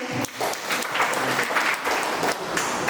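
A crowd applauds Dr. V.M. Shetty at a blood donation camp, giving steady, moderately loud clapping that carries evenly through the whole moment.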